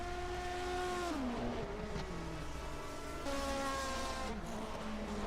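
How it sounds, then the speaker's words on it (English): A BMW 320 Turbo race car engine during a 1979 DRM Division 2 race at Diepholz airfield, loud and close, rising through revs then dropping pitch on gear changes twice, with turbo whine over steady roaring. "Schlipinski driving his BMW 320 Turbo, pursuing the Escort Turbo of Grant Riddall"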